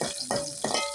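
Curry leaves splutter in hot oil with mustard and fenugreek, giving a continuous crackling fry with two sharp pops in about a second of sound.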